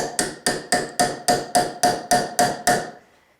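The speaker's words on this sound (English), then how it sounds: "very gently with a hammer tap it to try to turn it counterclockwise" Ten sharp metallic hammer taps on a center punch against a stripped screw, in a steady, even rhythm, each ringing briefly before the next, close and fairly loud, with no talking.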